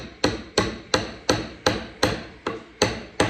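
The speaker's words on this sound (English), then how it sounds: "I just have a little hammer here and I'm just tapping on it" A small hammer taps a steel file tang into a black locust wood handle on a workbench, eight sharp, evenly spaced strikes about every half second, close and crisp with no talking.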